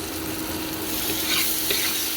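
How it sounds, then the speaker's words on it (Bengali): Spices, including Kashmiri red chilli powder and salt, sauté in a pan for a dhokar dalna with potol: a dense, continuous sizzle with soft stirring scrapes close by. "এবার এটা আমি ভালো করে কষে নেবো।"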